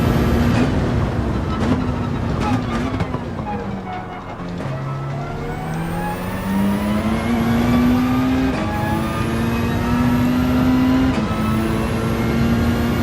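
A Peugeot RCZ race car in Gran Turismo 7 drones loudly at high revs, its engine note sliding down then climbing again through gear changes while accelerating out of corners, continuous and close.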